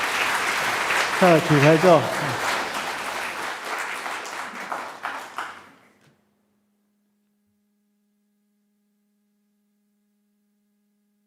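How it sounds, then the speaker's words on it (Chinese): Applause from a church congregation at a Taiwanese-language worship service, filling the first few seconds with clapping under a spoken voice before cutting to near silence with a faint hum. "鼓掌鼓励一下哈，"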